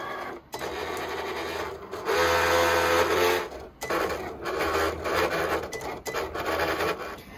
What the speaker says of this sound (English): Now let's go ahead and cut out our heat transfer vinyl and heat apply.